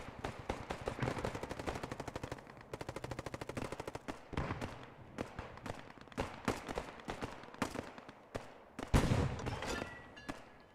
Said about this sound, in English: It looks like the Allies do have a second AT gun here. An AT shot going out.